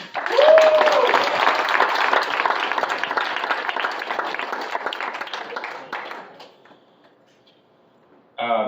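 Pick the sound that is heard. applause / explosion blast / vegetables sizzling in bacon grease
applause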